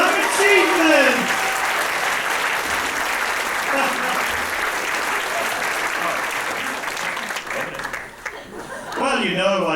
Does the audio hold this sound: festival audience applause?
yes